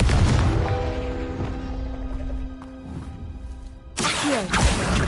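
A Confringo blasting spell in a video game erupts as a loud boom that fades into a ringing, humming decay, followed by a second harsh crashing burst near the end.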